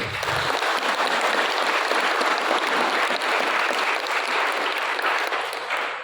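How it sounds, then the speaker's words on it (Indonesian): A large audience at a school Christmas celebration gives the regent of Sekadau loud, sustained applause. The dense clapping holds steady for about six seconds with little else heard. "Nah, tepuk tangan untuk beliau"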